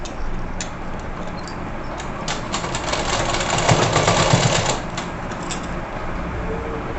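A sewing machine stitching together pieces of a net blouse runs in a steady, continuous whir, swelling slightly louder for a couple of seconds midway before settling back to an even hum.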